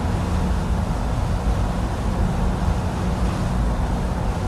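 A truck engine in American Truck Simulator drones steadily at a low pitch, loud and continuous, with road rumble underneath and no breaks.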